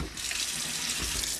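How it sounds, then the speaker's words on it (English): Water pours into a pan of browning sausage, a steady rushing hiss with no break through the whole short stretch. "I'm going to throw about 1/4 to 1/2 cup of water into the pan with it."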